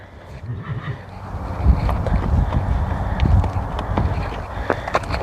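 Irregular hoof thuds and shuffling on the ground, close by, with rustling and occasional clicks as a horse moves about.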